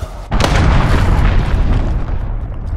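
A single heavy explosion from an enemy cruise missile strike in Call of Duty: Modern Warfare, a sharp blast that swells into a long, loud rumbling roar slowly dying away, with no voices.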